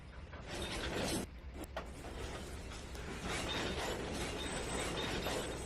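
Mechanical rolling and clanking of a train reversing slowly in the Trainz 2019 simulator, a steady dense rumble with intermittent ratcheting clicks, continuous and fairly close, with no talking.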